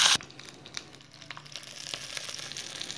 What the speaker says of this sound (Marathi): आता एका पॅनमध्ये थोडंसं तेल घालून अर्धा चमचा मोहरी तडतडायला घालायची आहे।